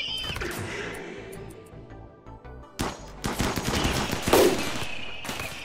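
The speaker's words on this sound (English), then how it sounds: "Alright, Shay, I want you just laying down stun fire here." Gunfire from turrets and colonists in the video game RimWorld crackles in bursts, with rapid repeated shots building into a dense, loud volley after a quieter opening.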